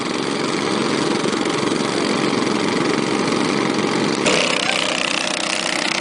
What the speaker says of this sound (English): Pumps are running.